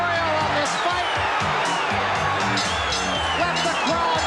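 A boxing arena crowd at a heavyweight championship fight roars in a dense, sustained wash of cheering and whooping, loud and unbroken, with a commentator's voice faintly mixed in.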